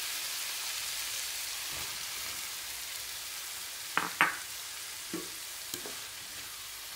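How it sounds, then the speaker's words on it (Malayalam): Soybean chunks being stirred into tomato masala in a pan, a steady soft frying hiss throughout with a few scraping strokes of the spoon partway through. "നമ്മുടെ മസാലേനോട് നന്നായിട്ടൊന്ന് മിക്സാക്കി എടുക്കണം"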